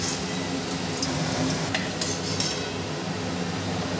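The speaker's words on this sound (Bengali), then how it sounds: "নতুন আলু সেগুলোকে কেটে এখানে বেশ নুন হলুদ দিয়ে কড়া করে ভাজতে বসিয়েও দিয়েছি" Cut new potatoes seasoned with salt and turmeric fry hard in hot oil, a steady close sizzle with faint clinks of a spatula or utensil against the pan.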